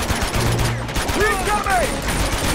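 Bursts of video game gunfire in Uncharted aimed at the player's character, dense and continuous across the clip, with melodic whistling tones and game effects layered over the shots.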